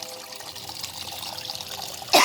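Water trickling in a garden fish pond, a soft steady babble and splash at low level that runs on without a break, with a brief louder rush of water right at the end.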